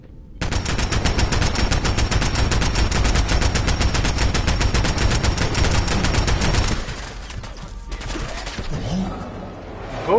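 Sustained rapid automatic gunfire in Fallout 4 as companion Piper shoots alongside a hardened submachine gun, a dense, loud, steady burst of rattling shots for about six seconds, then fading into quieter game ambience.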